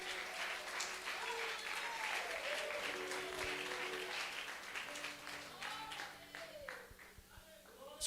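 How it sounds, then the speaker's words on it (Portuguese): A church congregation claps along, steady rhythmic applause filling the space while a preacher's voice and some singing carry over it. "Bate palmas para Jesus."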